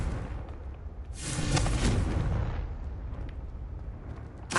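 A Confringo spell bursts in Hogwarts Legacy on PS5: a heavy, rolling explosion swells after a brief lull, rumbles for about a second, then fades into a low, noisy tail, with a small pop at the very end.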